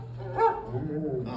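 Cartoon dog Rover gives a short bark or yelp near the middle, riding over a steady low hum with a voice-like murmur around it.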